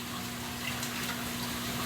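A Deltec protein skimmer on a 235-gallon aquarium setup, its pump churning water and air bubbles into a steady, even wash of fizzing and hiss with a low mechanical hum underneath, continuous and close.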